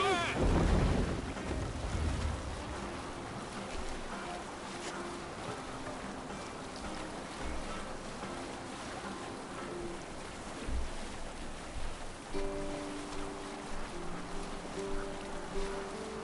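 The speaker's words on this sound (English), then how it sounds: "This wind would fill the sail." Wind and water wash steadily around a sailing boat in a PS4 video game, a broad noisy rush with a louder gust at the start and faint tonal game sounds later.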